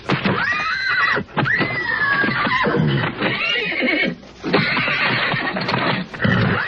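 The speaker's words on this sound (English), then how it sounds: "Still think we ought to put this Munster guy on that horse?" A horse neighs and whinnies repeatedly, several loud, shrill, wavering calls close by, separated by brief pauses.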